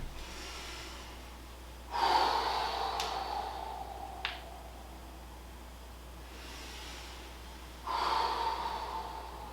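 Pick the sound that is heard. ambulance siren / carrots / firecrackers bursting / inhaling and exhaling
inhaling and exhaling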